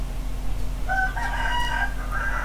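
A rooster crows once in the background, a drawn-out call over a steady low hum, with no talking.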